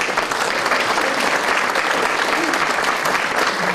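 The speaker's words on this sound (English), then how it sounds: "Give Lynn a round of applause." Steady, dense applause from an audience at a city awards ceremony honoring a purchasing director, filling the whole stretch at full volume with no pause.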